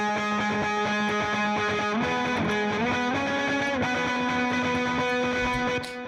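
Heavily distorted electric guitar played through a Darkface amp cab simulation, rich sustained chords shifting pitch partway through, loud and steady, then cutting off near the end.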